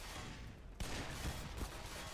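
Shotgun blasts in the video game Black Mesa: a sudden loud boom cuts in after a quiet stretch, followed by a couple more sharp reports over a dense, noisy game backdrop.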